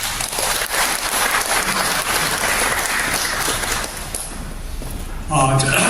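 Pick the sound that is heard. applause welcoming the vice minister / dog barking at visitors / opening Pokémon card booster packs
applause welcoming the vice minister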